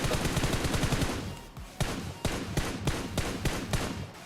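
Loud video game gunfire in a PUBG-style battle royale: a sustained automatic burst followed by a series of separate heavy shots spaced roughly half a second apart, close and with no talk over it.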